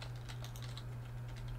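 Rapid, light keystrokes on a computer keyboard as a command is entered, a steady stream of soft clicks over a constant low electrical hum.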